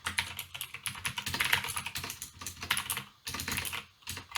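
Close, rapid typing on a computer keyboard, with a fast, uneven patter of key clicks and brief pauses between bursts.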